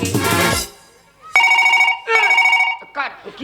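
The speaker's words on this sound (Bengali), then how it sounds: "মা ফোনটা এসেছে ফোনটা ধরো" A telephone rings in repeated bursts of bright electronic trills with short gaps between them, loud and close. A voice speaks just before the ringing starts.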